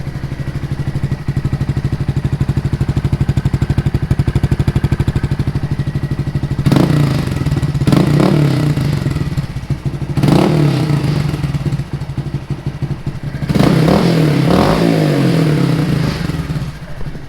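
A Honda Grom motorcycle fitted with a new Yoshimura exhaust idles with a rapid, loud putter, then revs sharply in three distinct blips before settling back to idle, close to the listener.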